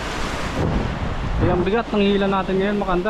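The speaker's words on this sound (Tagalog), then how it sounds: "Sobrang lakas kasi ng alon." Strong sea waves on a Philippine shore after Typhoon Pepito, during net fishing, make a loud, steady wash of surf and wind rush, and someone talks over the roar for most of it.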